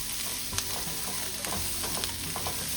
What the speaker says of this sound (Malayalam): ഇനി നമുക്ക് ചിക്കൻ്റെ പീസ് ഇട്ട് കൊടുത്ത് കുറച്ച് നേരം ഒന്ന് വഴറ്റി നന്നായി കുക്ക് ചെയ്തെടുക്കാം.